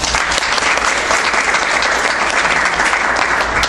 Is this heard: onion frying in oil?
no